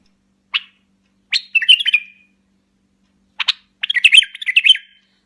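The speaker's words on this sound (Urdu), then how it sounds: "اس نے اصلی بلبل کی طرح گانا شروع کر دیا۔" A mechanical jewelled bulbul sings like a real bird: two phrases, each opening with a sharp chirp followed by a quick warbling trill, separated by a short pause, clear and close with no talk.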